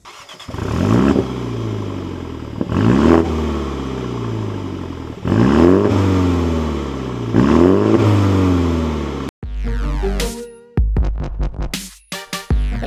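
MINI John Cooper Works GP with twin 90 mm exhaust outlets revving hard, four loud rising-and-falling blips close by, followed by a sharper burst of crackling, choppy engine sound and abrupt cutoffs, with no talking.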